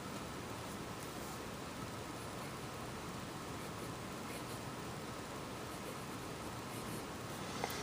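A fountain pen's nib scratches steadily across paper, a soft continuous hiss of dry writing that runs without pause, close and faint, with no voices.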